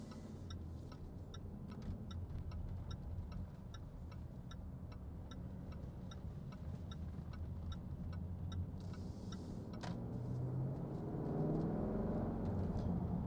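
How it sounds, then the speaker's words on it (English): A 2020 Jaguar F-Pace SVR V8 idles with a steady low burble inside the cabin, accompanied by regular light ticking like an indicator, and swells slightly louder near the end. "so a nice V8 Burble"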